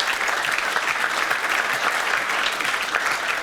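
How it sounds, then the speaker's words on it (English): Audience applause fills a hall at a football club's player of the year awards ceremony, a steady dense clapping that holds evenly throughout with no voices over it. "deserves a round of applause"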